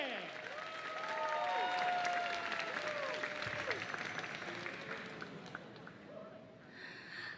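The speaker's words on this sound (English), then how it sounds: "Let's welcome her with a round of applause." An audience at a gaming convention stage event claps and cheers to welcome a speaker, a broad wash of applause that swells then gradually fades, with crowd murmurs and whoops mixed in.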